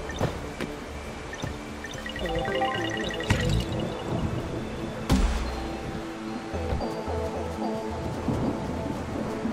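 Steady rain in the video game Nikorediro: The Magical World, a dense even hiss with scattered drips and a couple of brief louder thumps, heard alone without voices.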